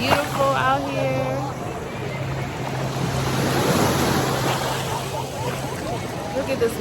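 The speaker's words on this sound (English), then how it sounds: "Look at this water, y'all. This water is so nice. Waves crashing." Ocean waves wash steadily onto a beach at a Cozumel beach club, a close, continuous surf roar with wind noise, while people talk over it.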